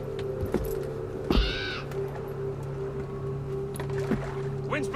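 A raven in Assassin's Creed Valhalla, aboard a ship, gives a single clear caw over a steady low hum and ambient creaking, with a few shorter calls later.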